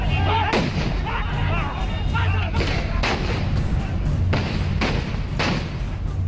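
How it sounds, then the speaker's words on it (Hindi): Gunfire breaks out during a clash between rival supporters at a block pramukh election in Sitapur, Uttar Pradesh, with police present. Loud, sharp shots crack out at irregular intervals over a noisy crowd with some voices. "फिर पहले गोली चलने की आवाज आती है।"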